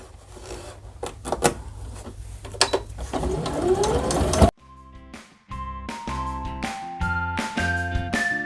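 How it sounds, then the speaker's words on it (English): A sewing machine stitches a Japanese stitch very close to a finished seam on a sling bag, with rapid mechanical whirring and clicking at moderate level, then a pause and a steadier run with a humming tone. "I do what's called a Japanese stitch. So I go really, really close to the finished seam."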